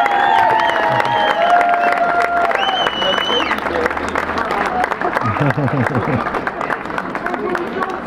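A crowd claps, cheers and whoops after a small theater and guitar performance at the opening of an outdoor kiosk in Sint Michielsgestel, loud and sustained, with voices and babble mixed in.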